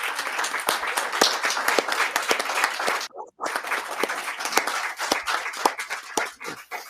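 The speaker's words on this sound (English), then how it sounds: "I want to actually give Deb a round of applause" Applause from the audience at a union local town hall meeting, a dense and sustained round of clapping with a brief dropout partway through, no talking.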